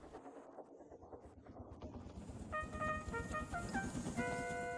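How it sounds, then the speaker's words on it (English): A steam engine whistle blows from a toy-like train in a Thomas and Friends scene, several short bright tones entering midway over low rumbling engine noise, fairly quiet overall. "Then he heard a whistle."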